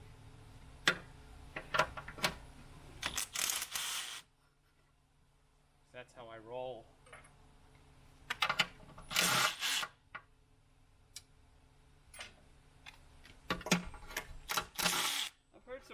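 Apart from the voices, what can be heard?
removing valve cover bolts on a Jeep Cherokee engine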